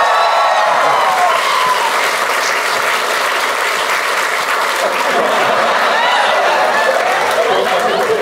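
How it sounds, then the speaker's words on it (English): Audience applause at a stand-up comedy crowd-work show, a dense, steady wall of clapping filling the room for the full stretch with scattered cheers and chatter mixed in. "Can we have a round of applause for all of you"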